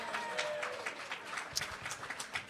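A lively live crowd at the Grand Hotel of Cape May, New Jersey claps and cheers through a radio broadcast, a continuous bed of applause with scattered sharper claps and some voices mixed in.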